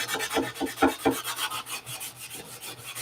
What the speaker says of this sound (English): Let us sand it out.